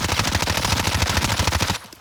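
Rapid automatic gunfire in a shooting video game, a dense loud burst of evenly spaced shots lasting under two seconds, then cutting off.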